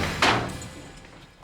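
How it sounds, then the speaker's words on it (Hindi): A single heavy thud as a house door is forced open in a Hindi crime drama scene, followed by a fading rumble and a faint knock at the end. "दरवाजा तोड़ दो।"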